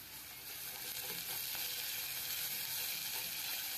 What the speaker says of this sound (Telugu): ఆనియన్స్ మంచిగా బ్రౌన్ కలర్ వచ్చేసరికి ఫ్రై చేసుకోండి